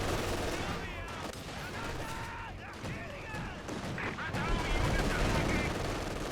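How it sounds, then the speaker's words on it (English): A light artillery barrage in Company of Heroes 2 on the Bayeux map: scattered gunfire, booms and rumbling explosions of shifting intensity, moderately distant and mixed with battle noise, growing heavier toward the end. "we have light artillery barrage working"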